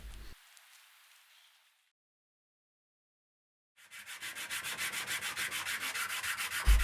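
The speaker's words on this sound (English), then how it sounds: "We just got some sticky back sandpaper, starting with 80 grit, applied it to the bench top, and just worked the surfaces of the stones." Peridotite sharpening stones rubbed on 80-grit sticky-back sandpaper fixed to a bench top. A short scrape at the start gives way to silence, then a loud run of steady, even back-and-forth rasping strokes.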